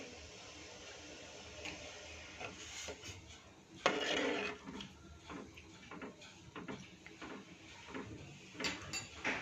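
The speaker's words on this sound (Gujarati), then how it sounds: "હવે આને એકવાર હલાવી લઈશું આપણે।" A spoon stirring green garlic and ingredients in a pot while making a traditional Gujarati dish, heard as soft scraping and clinking taps, one sharper rasp, fairly quiet and close with no talk.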